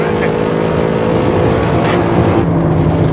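A modded Cadillac CTS-V engine in a racing simulator revs hard and climbs through its range, a loud, steady, up-close engine drone with no talking over it.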